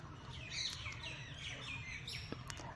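Budgerigars in a colony cage chirp and tweet continuously, several small birds calling at once in a busy, overlapping chatter over a low steady hum, fairly quiet overall.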